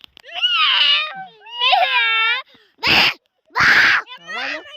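A young voice mimics a cat, drawn-out wavering meows alternating with a couple of harsher, breathy bursts, close and fairly loud.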